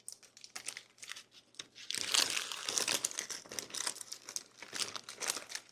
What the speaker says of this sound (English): Am I brave enough to see if I can lift it by the parchment paper and dump it in